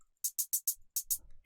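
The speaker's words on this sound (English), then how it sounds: "I added a hi-hat" A crisp electronic hi-hat sample ticks six or seven times in quick, slightly uneven succession, bright and dry, ending on a fuller hit, with no talking.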